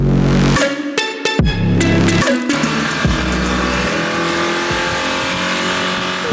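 Mercedes-AMG E Performance car running on a dyno, loud engine revving in sharp bursts with gear-change gaps early on, then a sustained high-revving roar with rising harmonics.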